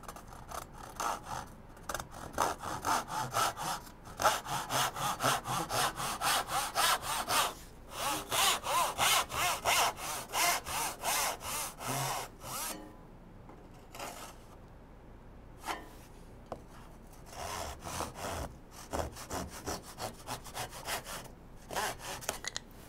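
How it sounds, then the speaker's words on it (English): Hand-sawing wood with a large rip saw while cutting a tenon, steady rhythmic rasping back-and-forth strokes close by, with a brief pause midway before the strokes resume. "Let's go to this big rip saw."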